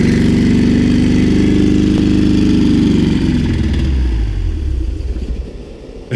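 A homemade turbo engine built in a backyard runs with a loud, steady, close rumbling roar, then sputters and dies away as it runs out of fuel near the end.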